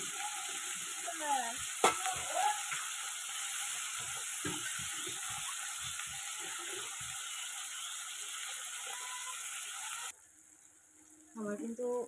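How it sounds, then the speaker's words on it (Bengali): Beans and capsicum fry in hot oil with a continuous, even sizzle and occasional stirring clatter, close and steady for about ten seconds. It then drops away and a brief voice is heard. "আমার কিন্তু এই বিনস আর ক্যাপসিকাম দুটোই ভাজা হয়ে গেছে।"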